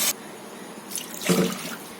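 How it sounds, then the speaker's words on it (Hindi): Water is poured into a cooking pot for nalli nihari, a brief, close splashing rush that swells after a moment of quiet. "पानी डाल देते हैं।"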